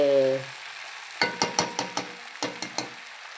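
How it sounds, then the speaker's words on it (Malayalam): Jackfruit frying in an iron pan, a steady sizzle with a run of sharp scraping stir strokes in quick succession, close and fairly loud after a brief hum at the start. "ഇരുമ്പിച്ചൻ ചട്ടിയിൽ ഇതിങ്ങനെയുണ്ടല്ലോ വെച്ച് വറുത്താലുള്ള ഒരു രസം പറയണ്ട"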